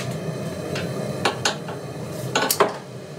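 A steel knife made from a wrench clatters and clanks as it drops during a Parks 50 oil quench, several sharp metallic knocks in two bursts, close and loud, with no talk.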